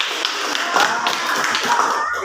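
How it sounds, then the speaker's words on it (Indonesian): A class group breaks into a short burst of hand clapping after a discussion, scattered claps overlapping for a couple of seconds at moderate loudness. "Oke, tepuk tangan."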